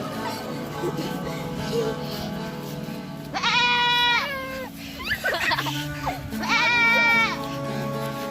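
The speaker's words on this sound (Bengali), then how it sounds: "কোথা থেকে যেন একটি পাগলা ছাগল চলে আসে" A goat bleats loudly twice, each bleat long and wavering, with voices and background noise around it.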